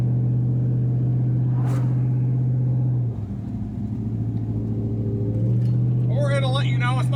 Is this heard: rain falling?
no